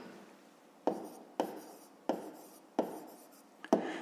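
A pen or pencil scratches an equation onto paper by hand in about five quick, separate strokes. The strokes come in a close, regular rhythm with short pauses between them. No voices.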